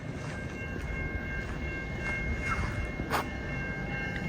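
A passenger train rumbles through a closed railway crossing in bitter cold, a steady broadband roll with faint clicking of wheels and a brief high squeal near the end, heard continuously without speech.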